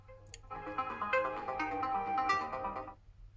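The Comet ringtone plays on a Samsung Galaxy S22, a bright melodic tone sequence lasting about two and a half seconds, clear and alone after a soft tap.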